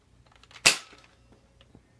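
A Nerf toy gun fires a single sharp dart shot, a brief snapping pop near the start of the second, followed by faint handling clicks in otherwise quiet surroundings.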